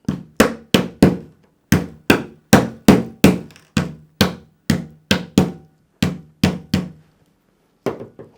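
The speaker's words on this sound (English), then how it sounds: "I'm going to take this and I'm going to hammer this down flat" A 4-way plastic servo arm from a Flite Test F14 Tomcat kit being hammered flat: about sixteen sharp, loud strikes in a quick uneven rhythm, a short pause, then one last blow.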